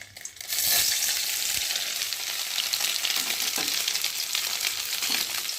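Boiled soybean chunks frying in hot oil in a wok, a loud sizzle that bursts up after a clatter and then crackles steadily, with occasional stirring.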